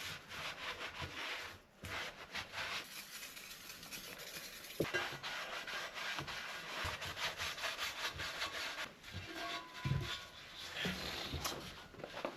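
A microfiber towel wiped over a car alloy wheel being prepped for paint, giving steady soft rubbing and swishing strokes, close and fairly quiet, with no talking.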